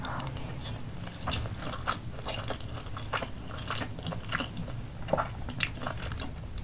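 Close, soft chewing and biting while eating Portuguese chicken and potatoes with spicy sauce, with irregular wet crunches and mouth sounds repeating throughout, no talking.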